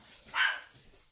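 A single short dog bark in a house, fairly loud and somewhat distant over a quiet room.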